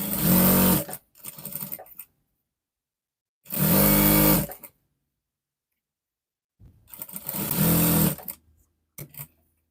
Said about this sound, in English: Then you stitch the zipper.